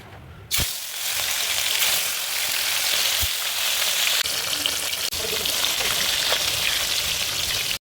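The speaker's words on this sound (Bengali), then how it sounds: "আমি কড়াইতে তেলটা গরম করে নিলাম, নিয়ে মাছটা ভেজে তুলে রাখবো" Pieces of catla fish drop into hot oil in a wok, setting off a sudden loud sizzle that continues as a steady, close crackling hiss with small pops for several seconds.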